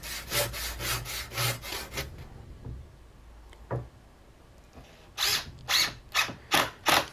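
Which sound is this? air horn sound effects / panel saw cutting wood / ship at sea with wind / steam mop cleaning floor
panel saw cutting wood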